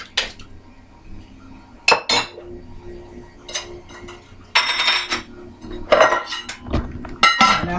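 Metal spoon clinks and scrapes against a cooking pot of curry shark, several sharp clattering hits and stirring scrapes at close range, no talking.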